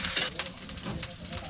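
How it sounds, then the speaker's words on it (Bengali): Onion, ginger, garlic, green and dried chillies and garam masala sizzle and fry in a pan, with brief stirring scrapes in a short, steady burst and no talking. "এবারে মশলা কষা হচ্ছে।"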